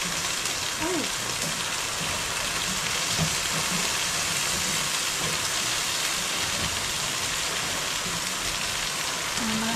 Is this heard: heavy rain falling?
yes